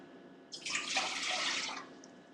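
Water splashes briefly into a cooking pot for quinoa, a quiet burst of pouring that starts sharply, runs for just over a second and tapers off, with no voices.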